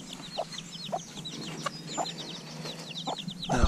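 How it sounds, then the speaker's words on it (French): A broody hen with four newly hatched chicks clucks softly in a garden, giving short repeated clucks at a steady pace while the chicks cheep high and fast around her, fairly quiet and close. "Ma poule a couvé. Et on a 4 petits poussins."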